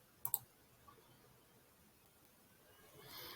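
A computer mouse clicks on a Google login button, giving a quick pair of sharp, close clicks near the start, then quiet room hiss with a soft rise of noise at the end.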